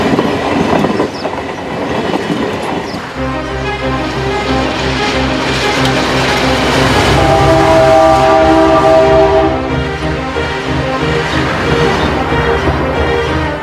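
A loud train rumbles past close by with a steady rolling roar, its horn sounding in sustained tones through most of the pass, near the station in Ghardimaou, a Tunisian town on the Algerian border.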